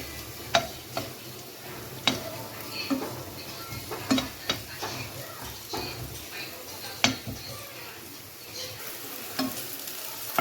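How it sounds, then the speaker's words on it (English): Apple sizzles quietly in a frying pan, with occasional sharp clicks and scrapes of a utensil stirring at irregular intervals. "we are still frying for a minute"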